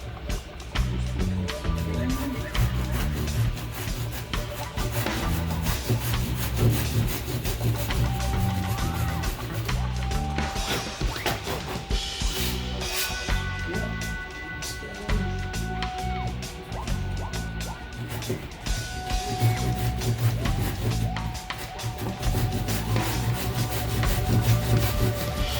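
A chisel carves and scrapes wood while building a parol, a loose run of rough rubbing and scraping strokes heard close up, with faint talk mixed in at times.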